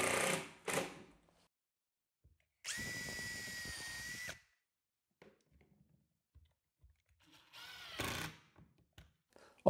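A power drill countersinks and drives a screw into a wooden bathtub panel, two loud close whirring bursts of about two seconds and one second, separated by quiet handling taps and brief clicks.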